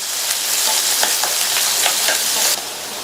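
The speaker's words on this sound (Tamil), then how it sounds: "கட் பண்ண ஒரு பெரிய வெங்காயம், கூடவே கறிவேப்பிலை சேர்த்த வெங்காயம் 1 நிமிஷம் வதங்கட்டும்" Onion, green chili and curry leaves sauté in hot oil with a steady, bright sizzle and occasional stirring scrapes, close and continuous, dropping slightly near the end.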